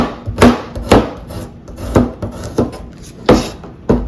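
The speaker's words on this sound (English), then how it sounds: "everything's just getting a rough chop" A knife roughly chopping shrimp creole ingredients on a wooden board, about a dozen sharp, uneven thuds close up, with no talking.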